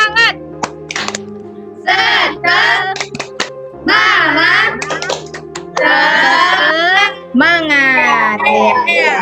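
A classroom of children performs a spirit clap: sharp claps punctuate loud chanting young voices, in bursts that stop and start across the passage, close and lively.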